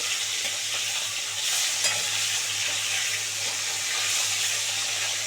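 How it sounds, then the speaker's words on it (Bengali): Pieces of bhangan fish frying in a pan and being turned, a bright steady hiss of hot oil with a few scraping knocks as the pieces are flipped, close and without voices. "একটু উল্টো পাল্টা করে দিই নাহলে ভালো করে ভাজা হবে না"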